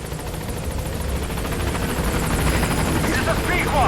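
A helicopter in Metal Gear Solid 5 approaches a landing zone with a close, steady rotor thrum and whine that slowly grows louder as it nears.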